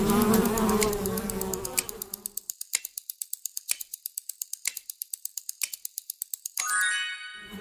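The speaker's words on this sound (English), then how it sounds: "That was the sound of a bee buzzing." A bee buzzes loudly at first, then breaks into a fast run of sharp, evenly spaced clicks, and a brief tonal buzz returns at the end.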